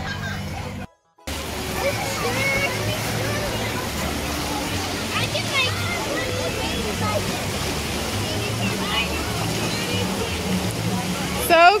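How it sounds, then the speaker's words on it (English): Water rushes and sloshes steadily at a lazy river in the Legoland Water Park in Los Angeles, with a constant splashing wash under a busy babble of voices and children's shouts. It drops out briefly near the start. "It's a lazy river with Legos in it."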